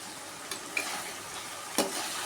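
Chopped ivy gourd cooks in a pan about to be covered, making a quiet, continuous sizzle. A few sharper crackles or stirring scrapes break through, and no one speaks.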